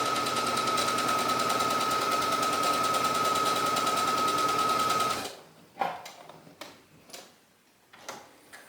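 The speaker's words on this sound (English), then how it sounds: "Now I'm doing my gathering stitch for the top yoke of the back." A sewing machine runs a long gathering stitch on a blouse, a steady, rapid, close mechanical whir lasting about five seconds before stopping, followed by a few soft handling clicks and taps.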